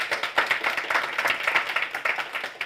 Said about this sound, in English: with support of your applause